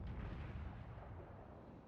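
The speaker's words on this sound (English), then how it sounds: "Now Trigger Happy Dad fires his first shots" Naval guns fire in World of Warships, a dense low rumble of heavy booms rolling continuously with no clear gaps, loud and close with no voices.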